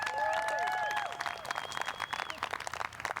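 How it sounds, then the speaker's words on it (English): Audience applause at a live sponsor-thanks event, a dense wash of clapping with scattered whistles and cheers that starts full and stays steady, slightly thinning toward the end. "Let's have a round of applause for them."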